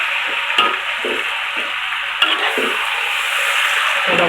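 Water spinach being stir-fried with chili sambal in a hot pan makes a loud, steady sizzle. Repeated scraping and tossing strokes flip the greens at an uneven rhythm, and no one speaks.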